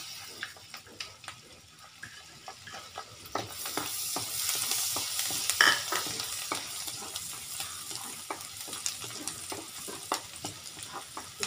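Garlic sizzles steadily in a hot pan for spicy pork and chicken adobo, with repeated scraping stirs and utensil taps running throughout; the frying grows louder partway through.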